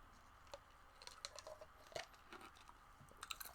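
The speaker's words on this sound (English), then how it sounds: "chewing some ice." Someone chews ice close to the mic, faint irregular crunches and crackling bites scattered over a few seconds, quiet and without speech.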